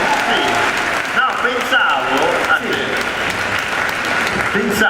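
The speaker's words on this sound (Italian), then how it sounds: "Fate un altro applauso a Piff!" Loud, sustained applause from a large audience for Pif at an evening event in Verona, with voices and cheers mixed in beneath the clapping.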